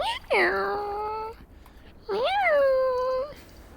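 A voice imitates a cat with two drawn-out, wavering meows, each over a second long and separated by a short pause, close and clear against a quiet background.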